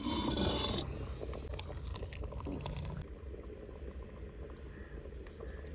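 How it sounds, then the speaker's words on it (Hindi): Tangar dal lentils boiling in a cooking pot, a steady close bubbling and roiling that stays loud throughout, briefly fuller at the start. "टांगर की दाल उबल गई है।"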